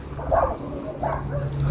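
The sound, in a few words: puppy yipping behind a gate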